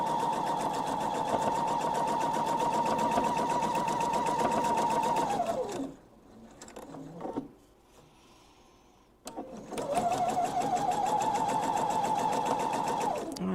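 A sewing machine runs in a long steady burst stitching down the long side of a thread catcher, slows and stops, pauses briefly, then starts again for another sustained run of stitching.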